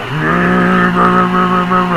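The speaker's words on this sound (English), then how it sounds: "Burnout! Man, listen to that engine go." A video game 1969 Dodge Charger Daytona with a 426 engine doing a burnout: a loud engine roars steadily with a rich, buzzing harmonic drone, slightly rising and falling in pitch as it revs continuously for the whole stretch.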